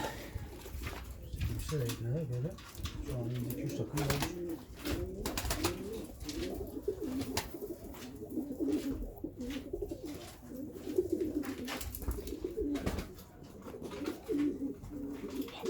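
Domestic pigeons coo repeatedly in soft, rolling phrases, close by, with people talking over and between the calls.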